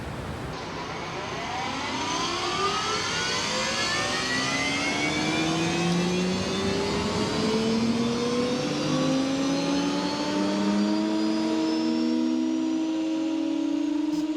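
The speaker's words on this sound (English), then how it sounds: "Then we can fire up the motors." Weinig timber moulding machine motors spin up in a workshop, a loud rising whine of several overlapping tones climbing steadily in pitch over a broad mechanical roar, holding steady once up to speed.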